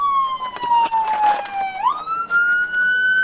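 A police car siren wails loudly and close, its tone sweeping down and then jumping back up, with road noise from the moving vehicle underneath.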